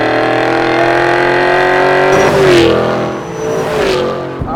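Borla Atak exhaust on a 2011-2014 Ford Mustang GT, the V8 revving loudly and close with a rising, aggressive roar that climbs twice before dropping back, alone without speech.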